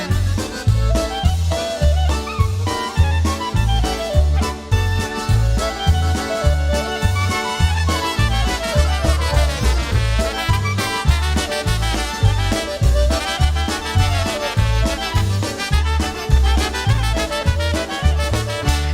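Lively polka music with a bouncy oom-pah bass beat, accordion and brass melody lines, steady and full throughout, no talking.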